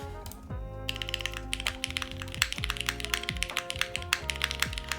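Steady, close typing on a custom F1 8x mechanical keyboard with deep, bassy alpha keys, a continuous flurry of sharp clacks after a brief quiet start.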